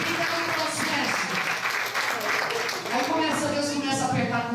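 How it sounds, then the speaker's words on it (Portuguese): Congregation applause during a church service, a steady crowd clapping texture running beneath a preacher's voice that keeps talking over it. "Quem pode aplaudir o Senhor?"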